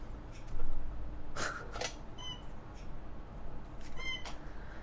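A cat gives several short, high squeaky meows, two bursts close together early and more later, fairly faint over a quiet indoor hum, with a brief rustle at the start.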